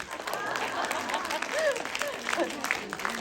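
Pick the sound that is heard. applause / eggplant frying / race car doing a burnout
applause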